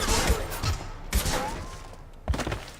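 Gunfire in the sci-fi shooter game Mass Effect 2: three loud, close bursts of shots with heavy thuds, spaced about a second apart over a dense, noisy background.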